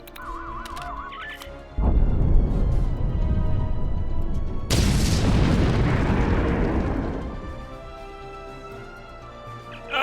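Video game Star Trek Online explosion: a deep, loud blast with a sustained rumbling roar, then a second sharper burst with hissing debris that slowly fades, preceded by faint game tones.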